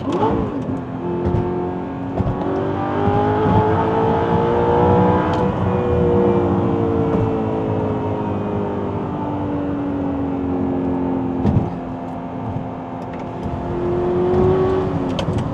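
A naturally aspirated V8 in an Audi R8 with a gated manual and tuned loud exhaust hums and swells through rising and falling revs, steady and close from inside the cabin with no voices.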